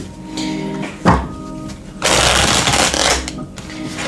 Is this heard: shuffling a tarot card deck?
yes